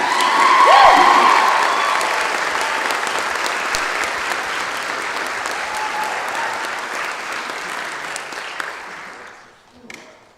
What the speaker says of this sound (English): you're gonna give her another round of applause right now